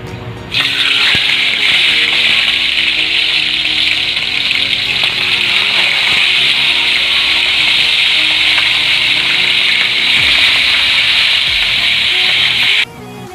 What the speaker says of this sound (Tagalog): Painitin na po natin ang mantika at prituhin na po natin ang ating isda.